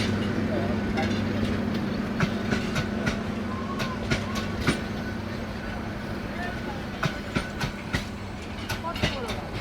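A long passenger train rolls along a railway line, its steady rumble broken by repeated clickety-clack wheel beats over rail joints, heard close by and fairly loud.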